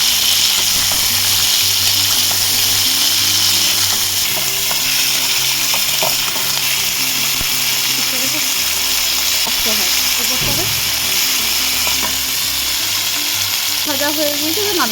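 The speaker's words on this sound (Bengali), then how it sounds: "তেল গরম হয়ে গিয়েছে, কাঁকড়াগুলোকে দিয়ে দেবো।" Small pond crabs hit hot oil and fry with a loud, continuous sizzle and crackle, with occasional stirring clinks over the steady hiss.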